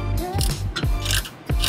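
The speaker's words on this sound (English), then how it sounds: "I did have to switch over to a ratchet wrench with a quarter inch socket and T25 Torx bit just to shorten things up a little bit" A ratchet wrench fitted with a quarter-inch socket and T25 Torx bit, turning a fastener during a trailer hitch install on a 2017 Lincoln Continental, gives several quick, loud clicking bursts close up with short gaps between them.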